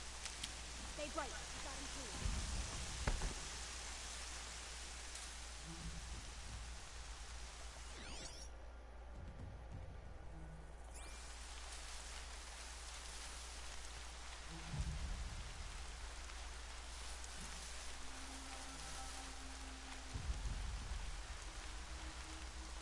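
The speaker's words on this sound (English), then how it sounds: "Everything's sharp and looming in the rain." Steady hiss of rain in a PS4 video game fills the scene, broad and constant. A few low rumbling thuds like distant thunder break through now and then, and a voice talks faintly in the background at times.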